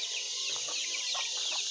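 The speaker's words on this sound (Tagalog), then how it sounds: "Silipin lang natin yung ating mga naglilimlim na ating mga alagang manok." Pet brooding hens cluck softly in short, scattered bursts, close by over a steady high hiss, with no talking.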